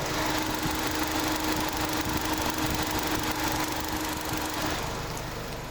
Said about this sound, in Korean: 엔진 소리 들려드릴게요.